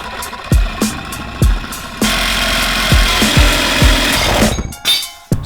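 Power tool cutting through a metal piece for BMW E30 coilovers, loud and close, a steady grinding whine broken by several sharp impacts and bursts, with no speech.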